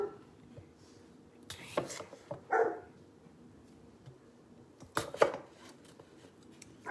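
A knife chops through vegetables on a cutting board while preparing Sunday dinner alongside London broil, giving a few sharp close thuds in scattered pairs over a quiet background.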